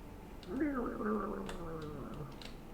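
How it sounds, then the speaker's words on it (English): A cat in a video game gives a single drawn-out meow with a wavering, falling pitch, clear over soft background ambience with faint clicks. "I've heard cats a few times"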